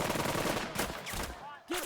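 A squad firing in the WWII tactics video game Burden of Command, a dense rattle of rifle and machine gun shots that thins into separate cracks, with another burst near the end.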